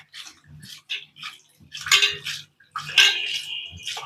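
Anchovy fish being washed by hand in water in a metal vessel, close splashes and sloshing with clinks against the pot, coming in short bursts separated by pauses, with no talking.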